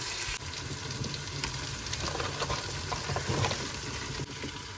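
Onions sauté with salt in a pan for mutton biryani, giving a steady close sizzle with occasional stirring scrapes throughout, continuous and moderately loud with no talk.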